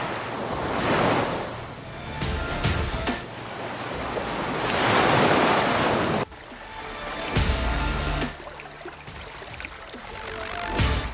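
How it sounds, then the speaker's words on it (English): Waves slap and wash in a cold Arctic bay, rising and falling in loud, close surges with gusts of wind buffeting the microphone. "The urgent slap of waves and the sharp blasts of the whale's breath echo through the stillness"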